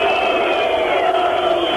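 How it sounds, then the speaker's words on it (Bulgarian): Dense, steady roar of a football stadium crowd at a Etar versus Kaiserslautern match, loud and continuous with chanting. "Обстановката на стадиона вие усещате, предполагам, има публика и от Кайзерслаузерен, е много по-шумна"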